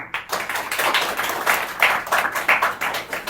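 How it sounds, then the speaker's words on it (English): A small group claps in an indoor classroom-style activity, the clapping fairly close and uneven, rising and falling in short bursts with no talking over it. "Let's clap for Mr. Sohail."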